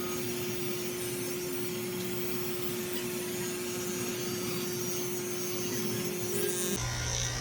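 An electric shaver fitted with a 7 blade hums steadily while grooming an old, frail dog, a constant close buzzing with a change in pitch near the end.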